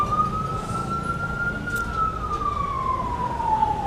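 A wailing emergency siren holds a steady tone that slowly rises and falls, sounding moderately distant over a low rumble of traffic and background noise.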